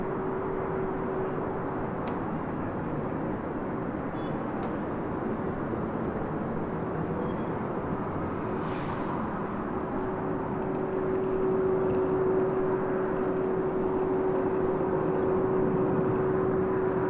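A LATAM Boeing 767-300ER begins its departure roll on runway 24 left, a steady distant jet roar with a faint whine, swelling slightly louder toward the end.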